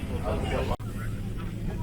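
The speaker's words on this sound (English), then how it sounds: "It's a 767, so it's much larger than the ones we usually fly." Steady low roar fills the cabin of a Boeing 767 airliner, a broad engine and air rush that continues throughout, with a brief dropout partway and faint murmuring voices under it.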